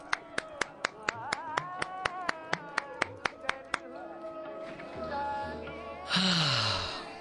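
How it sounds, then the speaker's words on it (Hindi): A person claps their hands in a quick, steady rhythm, about sixteen crisp, evenly spaced claps close by. The clapping stops partway through and gives way to tonal background sound. "मैं just want to stand up and clap."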